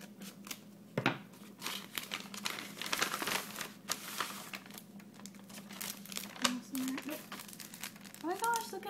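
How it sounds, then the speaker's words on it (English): Scissors cut open a crinkly plastic package holding a shirt, close up, with soft snips and rustling plastic scattered throughout, plus a short spoken voice near the end. "We'll just cut the top off of this one as well."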